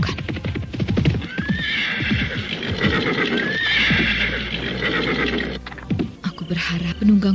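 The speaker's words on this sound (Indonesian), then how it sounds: "Pinaka Swasti Ratu menghentikan kudanya" A horse whinnies loudly and up close in an audio-drama sound effect, with repeated rising neighs over steady clip-clopping hooves throughout.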